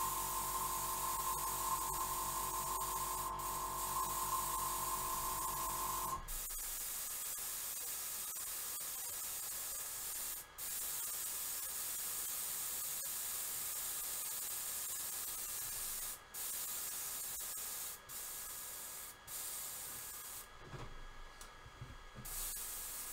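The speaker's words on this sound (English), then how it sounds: "spray all this cleaner through" A budget Fengda FE-180K airbrush sprays cleaning fluid through in a steady, close hiss that runs the whole time, briefly breaking off a few times as the trigger is released and pressed again.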